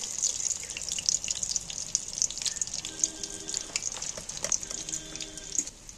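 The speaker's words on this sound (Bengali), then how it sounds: "মাছটা কিন্তু ভাজা হয়ে গেছে বলে ফেনা ফেনা মতন হয়ে উঠছে" Fish sizzling and crackling in hot oil in a pan, with a steady bright spitting hiss and scattered pops, close and continuous, with no talk.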